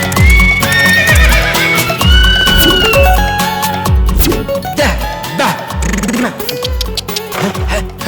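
A horse in a Tamil film scene, tired and frothing at the mouth after running, whinnies loudly over a dense, busy soundtrack with music and other noise throughout.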